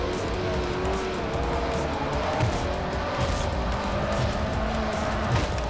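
A Ferrari Enzo roars past in Forza Motorsport 4, its engine a steady high whine over continuous racing noise and tire hiss, heard loud and close throughout.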